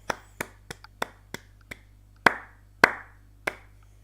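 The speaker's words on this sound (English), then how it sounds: "Round of applause for Arcanine." A single person claps about ten times, slow and irregular, each clap sharp and close against an otherwise quiet background with a faint low hum.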